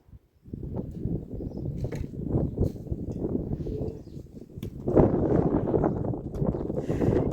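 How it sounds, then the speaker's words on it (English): Gusty wind buffets the microphone outdoors in a cold Zimbabwean village, a steady low rumble that swells louder in the second half, with no talking. "it's quite cold out here and it's quite windy"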